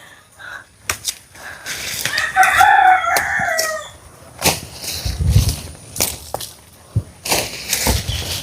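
A rooster crows loudly nearby while chickens cluck and squawk around it, with scattered scuffling noises and bursts of movement.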